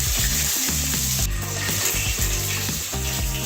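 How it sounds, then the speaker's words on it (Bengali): Potatoes fry in hot oil, producing a dense, loud sizzle with rhythmic scraping and stirring clatter close by. "এরপর আলু ভেজে নিলাম।"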